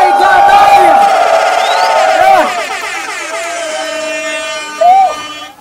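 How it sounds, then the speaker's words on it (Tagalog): Loud crowd roar of cheering and shouting at a rap battle event, with a tonal horn-like blast early on and another short burst near the end, thinning toward a calmer stretch. "akin pong hinihingay ang malakas na palakpakan at sigawan ng Bahay Katay!"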